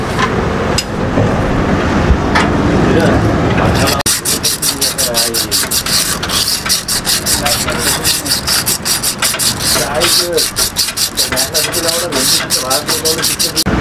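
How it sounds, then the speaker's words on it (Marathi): A brake drum from a Honda Activa 6G scooter is sanded with polish paper in rapid, steady back-and-forth scraping strokes that start a few seconds in. Before that there is a softer, busy stretch of handling. "याला सुद्धा पॉलिश पेपर मारायला लागतो"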